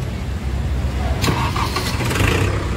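A Kubota MU 4501 tractor, a roughly 45 hp diesel, cranks and fires up, its low engine rumble steady throughout and swelling into a smooth idle after the start, loud and close with no talk.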